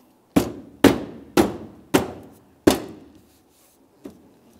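Five firm knocks in quick succession, then a lighter sixth, as a Volkswagen Jetta bumper cover is tapped into place; each hit is sharp and close with a short ringing decay.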